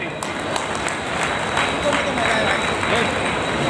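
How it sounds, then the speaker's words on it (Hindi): A crowd applauds loudly and steadily for those seated on stage at a Dr. Ambedkar birth anniversary celebration, dense clapping filling the space with crowd noise mixed in. "तो मैं चाहूंगा एक बार मंचासीन के लिए भी एक जोरदार तालियां साथियों।"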